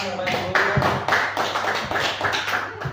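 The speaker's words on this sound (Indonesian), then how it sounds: "tepuk tangan Bapak Ibu" Audience applause at a school discussion session on vision and change initiatives at a junior high school in Jatinom, a steady patter of many hands clapping for about three seconds with talk mixed underneath.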